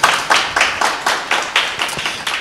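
Hand claps in a church teaching setting land in a steady, evenly spaced rhythm, about nine crisp, close claps with no voices over them.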